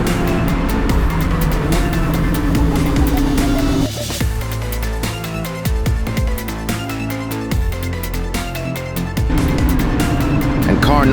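SCCA race car engine roaring from inside the car during an on-track pass. The sound is loud and continuous, with quick gear-change dips and rising revs.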